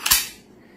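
A WE Luger P08 gas blowback airsoft pistol fires one sharp, loud, close crack, followed by a brief fading tail.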